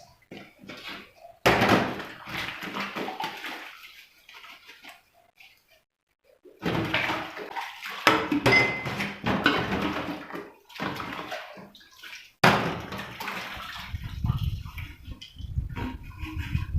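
Water runs and splashes in a single kitchen sink as dishes are washed in a countryside home, coming in several bursts separated by quiet gaps, with clattering handling noises and a heavier rushing stream near the end.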